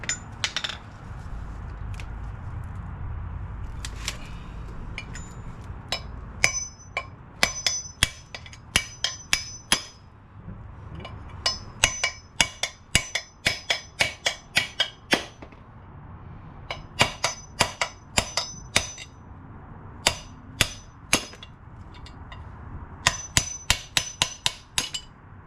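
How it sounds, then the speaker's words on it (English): Metal hammering close by on a part of a Scout vehicle, a long series of sharp ringing strikes coming in bursts and irregular flurries with brief pauses between, no talking. "Probably need a bigger hammer for this."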